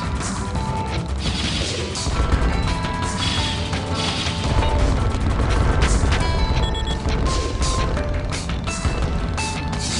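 Bombs from tower defenses in the iOS game OTTTD explode continuously alongside Gatling fire, producing a dense, loud barrage of crashing booms and mechanical clatter that runs unbroken throughout, with no voices.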